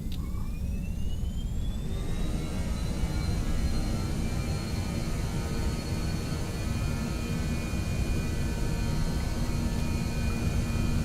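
Aircraft engines in Microsoft Flight Simulator 2020 spooling up, a rising whine over the first two seconds that settles into a loud, steady jet roar and hum.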